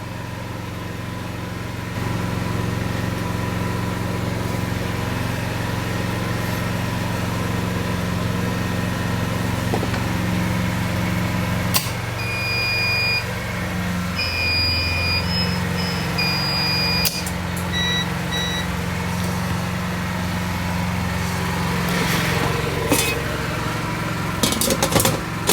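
A backup generator runs after the power switches over to it, a steady loud engine drone with a low hum, a faint beeping partway through and occasional clicks.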